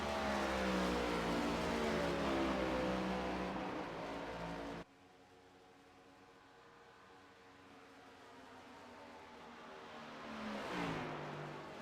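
Cars race around Pocono Raceway in a Cup Series event, a loud, close multi-engine harmonic roar that cuts off abruptly midway, leaving a quieter distant drone that swells again near the end.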